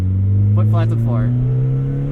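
A 1991 Mazda Miata engine is revved at full throttle, its note climbing steadily and loudly close by while someone talks over it.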